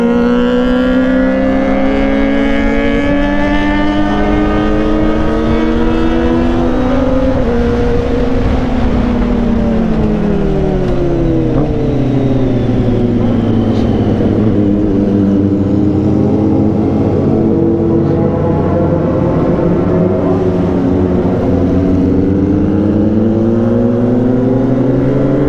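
A Kawasaki ZX25R motorcycle engine revs loud and close in one long continuous pull, its pitch climbing, dipping and surging again over about 25 seconds, with no voices.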